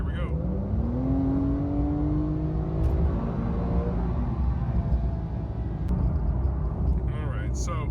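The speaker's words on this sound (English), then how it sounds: "just a little bit of sound to understand the beautiful noise, the harmonic noise of a Porsche engine" A Porsche 911 Carrera S engine revs, its pitch sweeping upward and holding steady in a loud, continuous roar with harmonic overtones.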